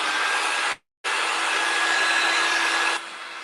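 A hair dryer blows a loud, steady whoosh to dry paint on a craft door round, cutting out briefly and restarting, then dropping to a slightly lower setting near the end.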